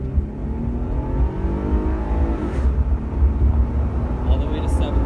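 A Cadillac CTS Sport's engine revs hard during a full acceleration pull with the windows down, a steady rising drone mixed with road and wind rumble, with a few brief sounds near the end.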